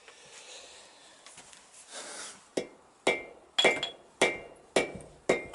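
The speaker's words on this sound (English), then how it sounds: "Here's my hammer." A hammer taps on a Yamaha XS650 motorcycle engine being taken apart, starting with soft fumbling and scraping, then six sharp metallic knocks in a slow, even rhythm, close and clear.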